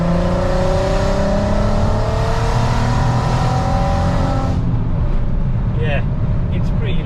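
A straight-piped VW Golf R32 exhaust roars loudly as the engine revs up through a long climbing pull, then drops to a deep burbling idle, close and continuous with engine noise throughout.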